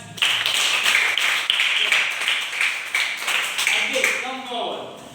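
A class of fourth-grade children claps in quick scattered bursts for several seconds, the rapid patter fading out as an adult voice starts speaking at the end.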